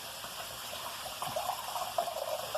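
Water pours into the pot of a Power Pressure Cooker while rice is being cooked, roughly two and a half cups in all. It comes as a soft, steady trickle that swells slightly toward the end, close and fairly quiet, with no voices.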